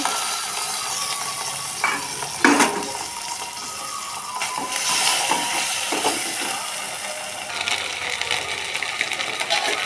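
Spice paste of garlic, ginger, cumin and dried chilli sautés in a pan while bitter gourd is cooked, a continuous soft sizzle with scattered clinks and scrapes of a utensil stirring, fairly close and with no talk.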